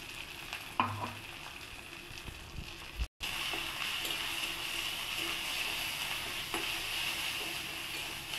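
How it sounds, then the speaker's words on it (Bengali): Prawn paste frying with browned onions in a pan, stirred as it cooks, gives a steady close sizzle throughout with occasional scraping and a brief break, and no talking. "এবার চিংড়ি মাছ বাটাটা দিয়ে দেবো।"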